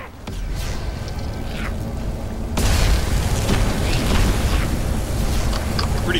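Bombs carried on enemies' backs go off in Magicka, a loud, dense roar of blasts that swells partway through and stays heavy, with faint game chatter beneath.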